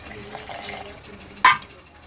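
Half a cup of water is poured into a homemade red chilli sauce mixture: a faint, low trickle, then one short, louder splash near the end.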